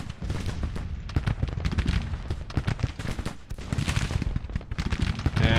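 Relentless artillery bombardment and rifle gunfire in a Civil War battle game, with dense overlapping booms and crackling volleys firing continuously, loud and close throughout.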